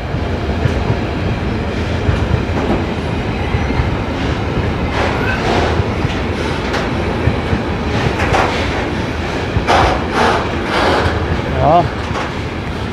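A train rolls past on a German line near the tracks, a loud continuous rumble with repeated wheel thumps from a flat spot and clacking wheels, while someone talks briefly over it.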